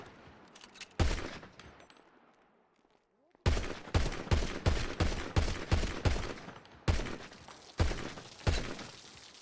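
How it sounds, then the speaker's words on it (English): Repeated gunshots ring out in a GTA V NoPixel roleplay shootout, loud and close: a few shots, a near-silent gap, then a rapid string of sharp cracks, some in quick pairs. No voices are heard. "I'm gonna shoot you now because of that"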